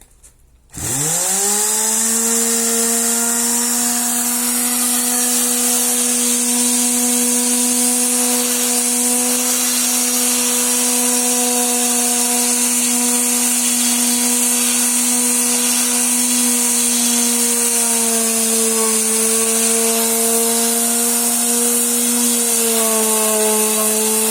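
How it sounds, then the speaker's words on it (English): A power sander starts up abruptly on wood and runs with a loud, steady whine, droning continuously with slight shifts in pitch. "want to switch the safety off only when you're ready to start sanding"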